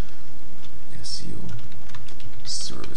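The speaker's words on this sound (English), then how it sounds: "let's type in Kelowna SEO services" Fingers tap out a short search phrase on a computer keyboard, with quick bursts of close keystrokes and brief pauses between them.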